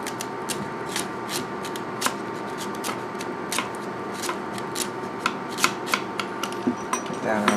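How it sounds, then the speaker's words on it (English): A parsnip is peeled in a kitchen while making gnocchi: close, quiet, irregular scraping strokes and light taps repeat throughout, growing a little sharper toward the end. "Parsnip skin is maybe a little tougher. I'm just going to peel it right off."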